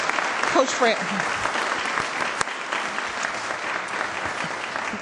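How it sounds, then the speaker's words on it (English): A Columbus City Council meeting audience applauds in a steady, continuous round of clapping from many people. A voice speaks briefly over the start, then the applause carries on at an even level. "let's give them a round of applause again"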